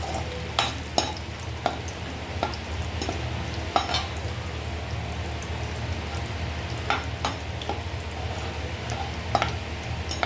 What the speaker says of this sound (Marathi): त्याच तेलामध्ये आपण काजू फ्राय करून घेऊया.